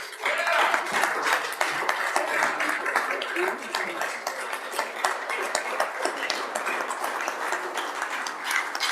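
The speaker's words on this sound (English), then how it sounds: "So let's give the Reverend a good round of applause." Applause in a Senate chamber during a floor session, a room full of people clapping steadily at moderate volume with some distance and reverberation.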